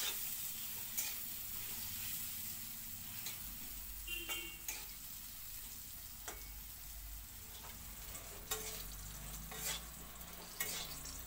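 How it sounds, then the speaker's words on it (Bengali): Eggplant with salt and turmeric frying lightly in a pan for a fish and eggplant paturi, a faint continuous sizzle broken by sharp stirring clicks and taps throughout. "বেগুনটা হালকা করে ভাজা করে নিলাম।"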